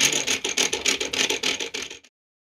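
Hand drill turning, a steady rhythmic grinding and scraping of about a dozen quick strokes close up that stops abruptly.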